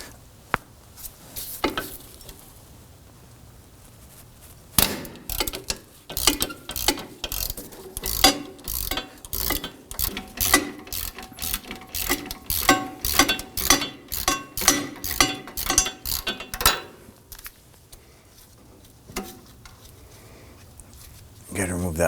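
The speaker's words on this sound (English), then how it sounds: "We're going to use our socket with an extension to go through" Socket wrench on an extension ratchets rapidly against a brake caliper bolt on a 2005-2009 Subaru Legacy rear brake, a long run of close, crisp clicks in quick rhythm, with a few brief metallic knocks before and after.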